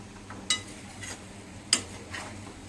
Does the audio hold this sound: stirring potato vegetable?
yes